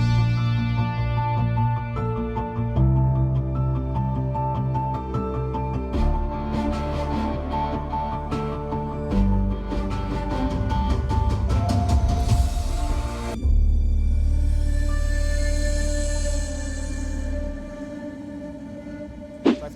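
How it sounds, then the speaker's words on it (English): A BMW iX's Bowers & Wilkins cabin sound system with around 32 speakers, including headrest speakers, plays full, loud music with deep bass and bright highs, shifting sections over about twenty seconds with no talking. "it's the best sound system that BMW offers today"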